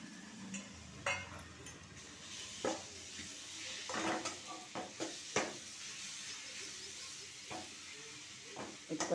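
Coconut frying in a pan for ash gourd and coconut halwa, with repeated scraping and stirring clatter over a steady low sizzle, close by and moderately loud, with no talk.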